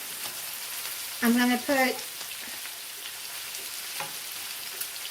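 Peppers sautéing in a pan for a steak-and-peppers dish, a steady soft sizzle running throughout, with a brief voice speaking over it near the start.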